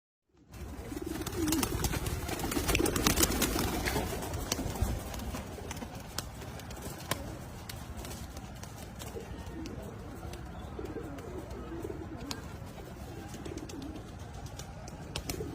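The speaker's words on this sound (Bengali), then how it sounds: "তো চলেন কবুতরটার ফ্লাইং দেখাই" Pigeons flying outdoors, with a steady rush of wings, faint cooing and scattered clatter and knocks under continuous ambient noise; no voices.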